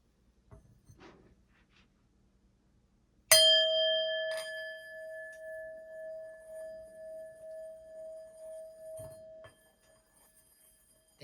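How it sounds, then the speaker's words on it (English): A singing bowl struck once rings out loud and clear, its steady pure tone with overtones sustaining and slowly pulsing for about six seconds before fading, with faint rustling before the strike. "You're going to hear a loud ringing sound from my singing bowl."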